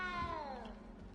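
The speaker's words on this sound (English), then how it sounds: "You don't need to be frightened, little cat." A cat meows in the video game Hogwarts Legacy, a single drawn-out, falling meow with rich harmonics, close and clear, alone without talk.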